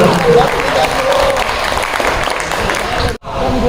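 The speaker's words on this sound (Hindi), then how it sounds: "जोरदार तालियां हो जाती चाहिए।" Loud audience applause at a ghazal and poetry gathering, continuous clapping with crowd noise that drops out briefly near the end before resuming.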